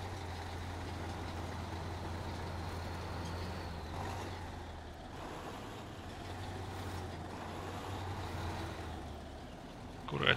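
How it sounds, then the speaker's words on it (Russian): Heavy MAZ truck engine in the SnowRunner off-road game, a steady low diesel drone and rumble holding at moderate level for the whole stretch, with no talk over it. "обратите внимание, как неплохо прописан звук у этого МАЗа"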